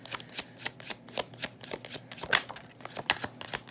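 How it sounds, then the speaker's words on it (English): Tarot cards are shuffled and drawn by hand in a steady, rapid run of crisp riffling flicks and slaps, close and clear with no talking. "we're going to start with 3 tarot cards, and then we're going to pull some of our bright idea cards"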